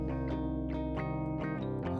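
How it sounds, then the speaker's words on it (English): Clean electric guitar played direct through a Guitar Rig simulation of a Fender Twin Reverb amp, a few ringing strummed chords with a bright, full tone heard alone. "And I've just got a Fender Twin Reverb here I can pull in"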